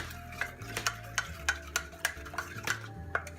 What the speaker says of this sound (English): All I have to do now is mix it up.